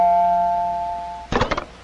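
In a 1965 Roger Ramjet cartoon, a doorbell sounds in a quick trio of bright chimes, loud and close, after a sustained steady tone.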